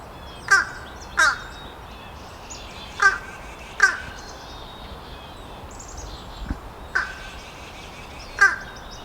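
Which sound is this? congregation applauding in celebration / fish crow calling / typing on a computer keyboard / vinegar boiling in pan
fish crow calling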